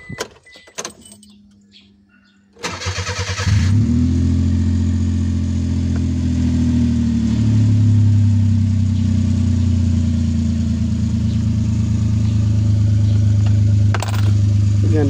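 A car engine is cranked and catches, then settles into a loud, steady running drone with rising revs. Oil warm-up is underway, and faint clicks and rattles come just before the start.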